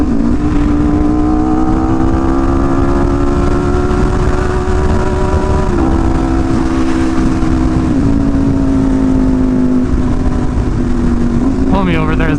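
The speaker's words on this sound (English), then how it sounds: "We're just going to be kind of like, you know, cruising, gas out a little bit here and there, just get a feel of the bike." Motorcycle cruising on light throttle, its engine a steady, loud, close drone that rises and dips in pitch with small gas changes and shifts, heard alone without talk.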